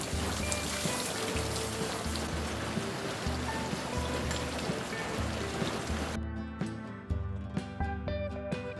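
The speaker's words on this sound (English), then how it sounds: "It's raining now." Steady rain pours down during an outdoor storm on an off-grid homestead, a dense, continuous hiss of drops on surfaces that holds at the same level for the whole stretch, with no talking.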